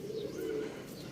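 A low, soft golden pigeon coo drones briefly, close and quiet, with no voices.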